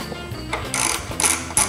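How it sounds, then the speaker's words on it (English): A 12mm wrench works the drain plug on a Mercury Verado outboard during an oil change, giving a few close, loud metallic clicks and scrapes in quick succession. "So the 12mm wrench will go right on the drain plug."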